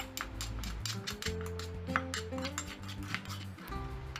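Repeated dull pounding and clinking of a pestle in a mortar, steady and close, with no voices.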